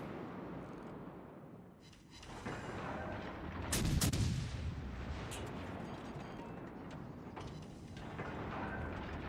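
Naval gunfire in the World of Warships Legends video game booms in deep, rumbling salvos, peaking in a heavy blast midway, over a steady mechanical ship drone, fairly faint overall.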